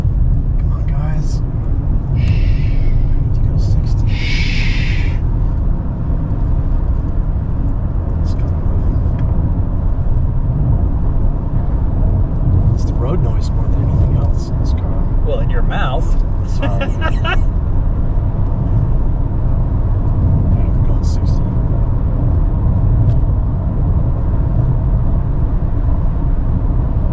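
Factory Five Type 65 car driving past at about 60 mph, a loud sustained road and engine rumble with tire noise, heard from roadside alongside a few brief high clicks and squeaks.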